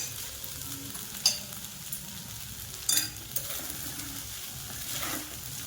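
Sago pearls (sabudana) sautéed in a pan with salt and chilli give off a steady, soft sizzle, broken by a few sharp scrapes and clinks of stirring, with no talking.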